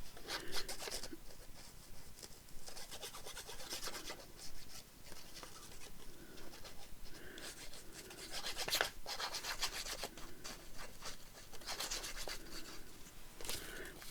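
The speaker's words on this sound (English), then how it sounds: "I've forgotten to burnish my stitches down again." Paper stitching being burnished down on a handmade card, a steady close dry rubbing with repeated strokes and a few sharper scrapes, alone without talk.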